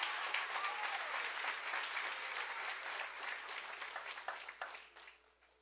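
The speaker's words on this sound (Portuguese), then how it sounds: "Se é para aplaudir, aplaude aí." A church congregation breaks into sustained applause, a broad wash of many hands clapping at a distance, steady for several seconds and then thinning out and fading.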